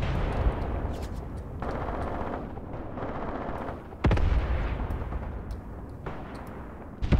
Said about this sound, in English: it looks like my mortars are starting to land